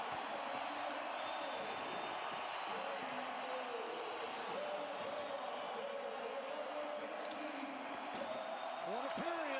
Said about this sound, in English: the crowd lets you know how important that one is